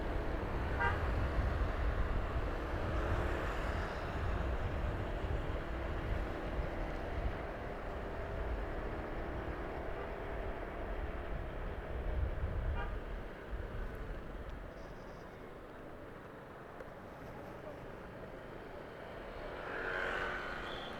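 Busy road traffic at Puncak in West Java: a constant rumble of passing vehicles with several car horn toots scattered through it, heavier at the start and thinning later.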